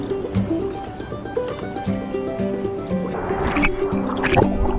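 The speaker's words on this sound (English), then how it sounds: "There's little rapids." Small rapids on the James River just north of Roanoke, Virginia, gurgle and rush steadily up close, a continuous bubbling wash with voices talking faintly over it.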